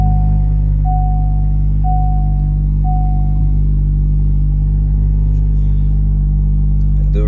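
A 2025 Honda Civic Type R FL5 with a straight-pipe exhaust runs at a steady, loud, deep idle-like drone, with a few brief tonal whines early on and a slight rise in rumble toward the end.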